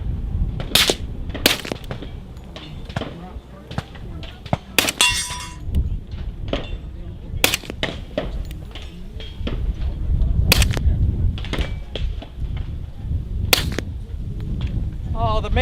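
Suppressed gunshots from a USP 45 Tactical pistol fitted with a YHM Sidewinder suppressor at an outdoor firearms festival range, several sharp cracks spaced irregularly across the span over steady background noise and murmuring voices.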